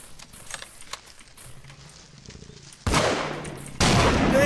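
Rapid bursts of video game gunfire, with dense crackling shots becoming much louder and continuous in the second half, heard alone without talk.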